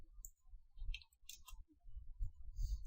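Quiet keyboard typing on a computer, a run of light, sparse clicks and taps spread irregularly across a few seconds, close by and with no speech.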